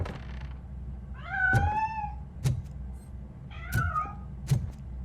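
A cat in the video game RoboCop: Rogue City meows twice in drawn-out, rising and falling calls, clear and close, with soft thuds in between.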